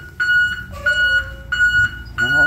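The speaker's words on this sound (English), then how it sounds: "All that beeping." Four loud electronic warning beeps repeat at even intervals, with a softer lower tone between them, from a school bus wheelchair lift signaling.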